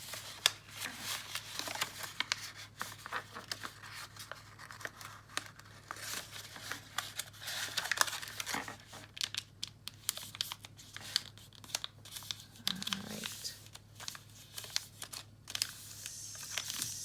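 Origami paper being creased and folded by hand, a steady soft crinkling and rustling close up, quiet and continuous with no voice.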